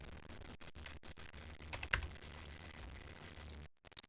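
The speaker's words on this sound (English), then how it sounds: "by typing in the number." Rapid clicks of keys being typed on a computer keyboard, a close, steady run of keystrokes with a brief louder cluster midway, ending in a short pause and a final few taps.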